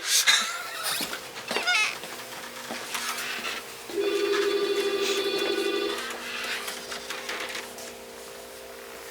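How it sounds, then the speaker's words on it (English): A telephone rings in a nightclub, a warbling electronic trill lasting about two seconds amid faint room noise and scattered knocks, with no one speaking. "Someone else is going to answer that phone."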